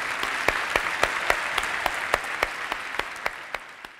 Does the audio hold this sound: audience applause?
yes